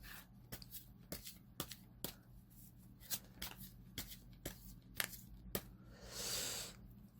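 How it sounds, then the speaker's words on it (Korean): Tarot cards are shuffled and drawn with a series of sharp, close card snaps at a fairly regular pace, then a soft riffling swish near the end. "마지막으로 조언 카드를 한번 뽑아 볼게요"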